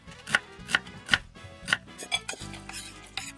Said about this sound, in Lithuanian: Smulkiai susipjaustom svogūną.